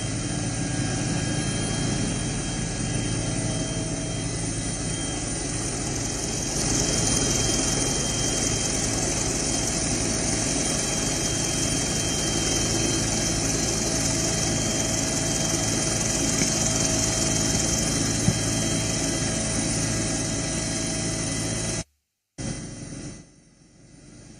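A steady, loud engine drone of a helicopter showering flowers over pilgrims at the Maha Kumbh in Prayagraj runs continuously, with rotor noise filling the whole stretch before a brief cut near the end.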